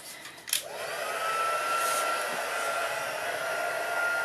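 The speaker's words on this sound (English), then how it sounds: "Grab my heat tool and my trusty cheese board." A heat gun used for stamping craft clicks on and settles into a steady, close airy roar with a faint high whine, running alone without pause.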